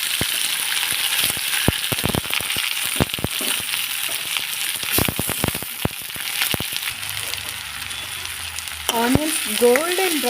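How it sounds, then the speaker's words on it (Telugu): Onions frying in a pan until golden brown for a prawn curry, a steady loud sizzle with repeated sharp scraping and stirring clicks throughout, and a brief rising whine near the end. "ఆనియన్స్ గోల్డెన్ బ్రౌన్ కలర్గా వచ్చేదాకా వేయించుకోవాలి."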